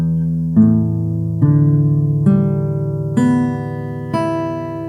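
Acoustic guitar open strings in standard tuning are plucked one at a time, six clear ringing notes stepping upward from low to high, close and alone.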